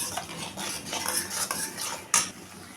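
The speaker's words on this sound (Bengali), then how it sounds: "এখন আমি একটু মশলাটাকে কষিয়ে নেব।" A spoon scrapes and stirs turmeric, chilli powder, salt and green chillies in a pan for a fish curry, with repeated metallic clinks over a soft continuous sizzle, close and alone.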